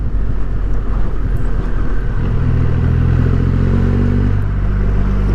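Triumph Rocket 3R motorcycle engine drones loud and steady on a country road, pitch rising as the rider accelerates, with heavy wind buffeting the microphone.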